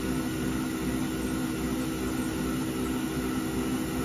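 A Haas VF-0E CNC mill spindle runs under load with a steady, loud mechanical whine and hum, continuous and unchanging, with no talking over it.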